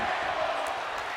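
Arena crowd noise from a WWE 2K22 wrestling video game match, a dense steady roar of chanting fans held at an even level throughout, with no voices standing out.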